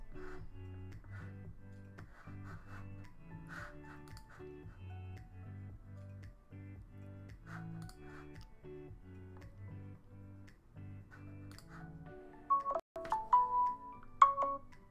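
A phone rings with a repeating electronic melody, close and moderately loud, cycling in steady bursts, then a few sharper clicks and taps near the end.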